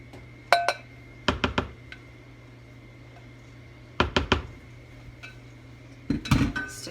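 Dishes and utensils set down in a kitchen sink after mixing cake batter, in three clattering bursts of clinks and knocks separated by quiet pauses, close and fairly loud, with no talking.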